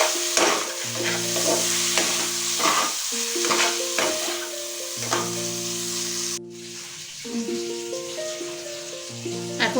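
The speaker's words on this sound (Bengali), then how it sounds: "এবার আমি যে মাটন কিমাটা রেখেছিলাম সেই কিমাটাকে আমি এটার সঙ্গে মিশিয়ে দেবো।" Mutton mince stirred into spiced masala in a pan, sizzling and frying with repeated scraping stir strokes, close and steady throughout with no talking.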